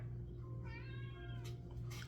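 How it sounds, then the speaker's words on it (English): A cat meows indoors, one drawn-out, rising-and-falling meow up close over a steady low electrical hum, with a short rustle near the end. "This cat is like kind of bothering me."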